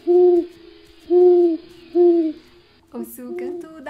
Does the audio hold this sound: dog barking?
no